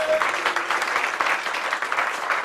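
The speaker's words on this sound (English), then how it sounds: "Massive round of applause," A round of applause from a conference audience, dense and lively clapping rolling steadily for a couple of seconds, loud and close.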